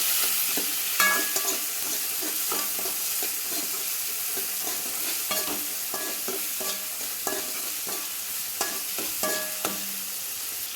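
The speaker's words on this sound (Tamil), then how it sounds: "அந்த தக்காளியும் போட்டுக்கலாம். இதை நல்லா பச்சண்டிக்கலாம்." Chopped tomatoes sautéing in a pan for drumstick leaf chutney give a steady, close sizzle with frequent scraping and clicking stirs of a spatula throughout, with no voices.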